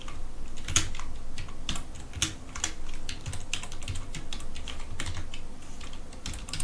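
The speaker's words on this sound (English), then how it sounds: "hope I'm typing this right." Steady fast typing on a French computer keyboard, close and clear, with many rapid key clicks in an irregular rhythm and no talking.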